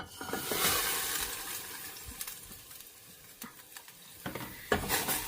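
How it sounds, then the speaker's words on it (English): Beans fry in cooking oil in a small pot, a close crackling sizzle with scattered pops, soft spoon stirs and light clinks of the pot, no talking. "For the beans, I'm going to add them to a small pot with cooking oil."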